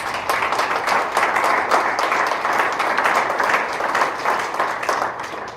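Sustained applause from an auditorium audience honoring student work and faculty mentors at an academic event, dense, loud and steady clapping with no talk.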